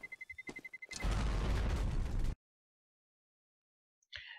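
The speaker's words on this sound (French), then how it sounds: "il attend juste que la bombe explose" Bomb exploding at the end of a round in a tactical shooter game: a few short clicks and beeps lead into a loud, wide blast that roars for over a second, then silence, with a faint brief noise at the end.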